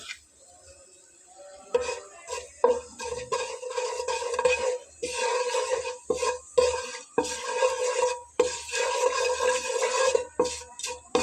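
Whole cumin, coriander and cinnamon pieces are tempered in hot oil in a pan, with a soft sizzle under repeated stirring and scraping that comes in uneven bursts and pauses.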